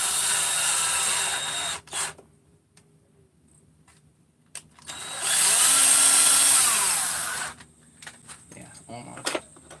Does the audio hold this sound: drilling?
yes